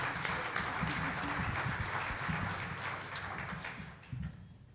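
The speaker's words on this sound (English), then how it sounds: "Let's get a good round of applause for all these folks here" Audience applause for a mortgage-banking panel of loan originators at a livestreamed industry conference, a steady dense patter of clapping sustained throughout, moderately loud, with some low voice murmur beneath and a brief louder burst near the end.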